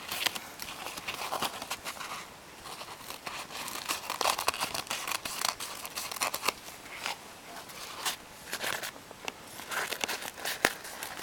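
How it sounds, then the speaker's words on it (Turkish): Paper towels snipped with scissors into small pieces for homemade hamster bedding, giving close, repeated crisp cuts mixed with paper crinkling and rustling, with no talking. "Ben daha güzel bir şekli olsun diye yırtmayacağım. Keseceğim."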